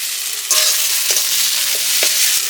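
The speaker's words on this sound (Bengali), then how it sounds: "এখন আমি মশলার ভিতর কাঁচা লঙ্কাটা ছেড়ে দিচ্ছি" Green chilies go into a frying spice paste in a pan, where a loud, dense, close-up sizzle rises suddenly and holds steady, with a few soft stirring scrapes inside it.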